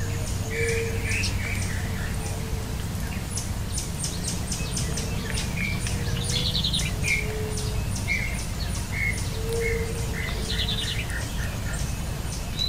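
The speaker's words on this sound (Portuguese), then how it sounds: "enquanto ele se alimenta, muitas aves ao redor cantam, felizes com a chegada do inverno" Many birds sing around golinho seedeaters feeding on seeds in the Caatinga in winter: repeated bright chirps and trills from several birds, some near and some farther off, over a constant low hum of insects.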